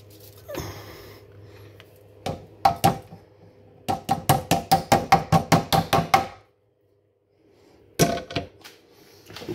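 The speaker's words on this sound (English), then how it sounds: "Then I'm going to pour back in the first pot" Dried sticky rice poured back into a pot, heard as a dense pattering rush followed by a quick run of about a dozen sharp, evenly spaced clatters, then a pause and a final burst of grains close by.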